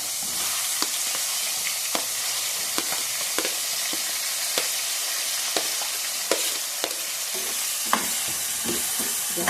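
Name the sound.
frying onion, green chillies and capsicum for upma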